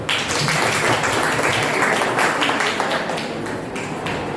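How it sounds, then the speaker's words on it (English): A round of applause for a quiz team at a college maths department event: dense, steady clapping from a crowd that stays loud and even throughout without fading. "I give them a round of applause."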